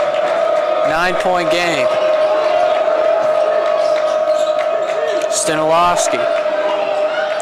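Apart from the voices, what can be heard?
basketball crowd cheering after a bucket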